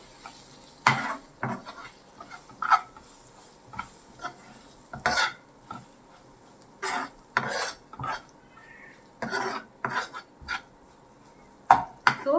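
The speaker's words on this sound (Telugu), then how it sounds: "సో ఒకసారి మొత్తం మిక్స్ చేద్దాం" A spoon scrapes and stirs four tablespoons of Tirupati-style lentil spice powder through a mixture in a pan on the stove, giving irregular bursts of gritty scraping and metallic clinks separated by short pauses.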